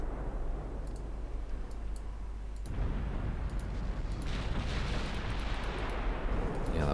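A torpedo strikes a warship in Ultimate Admiral Dreadnoughts during a naval battle between China and a Naka-class cruiser, bursting as a sudden loud, deep boom with a long rumbling roar that stays loud for several seconds.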